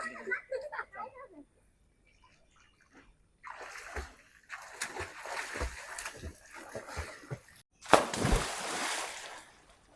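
People jump into a swimming pool, with bursts of close splashing and churning water after a quiet pause, followed by one loud splash near the end as someone leaps in, and voices calling before and during.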